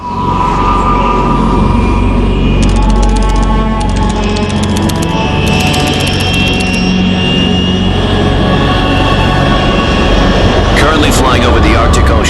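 Aircraft flying over the Arctic Ocean at altitude in Metal Gear Solid 3: a loud, steady jet engine roar fills the whole stretch, with a voice speaking over the continuous drone.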